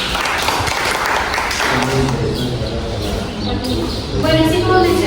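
A workshop audience applauds, a burst of clapping under and alongside talk.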